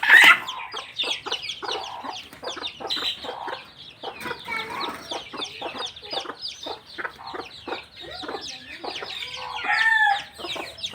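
Hens and newly hatched chicks in a farm cage, with steady overlapping clucks and peeps close up and a brief crowing-like call, busy and continuous throughout.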